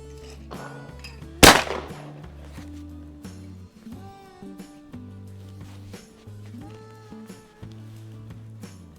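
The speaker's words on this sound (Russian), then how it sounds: "Ребят, наконец-то я стреляю с МЦ-7. Угонная мишень." A single sharp, loud shotgun blast from an MTs-7 fired at a clay target cracks out early, then fades, followed by quieter mechanical clicks over low background music.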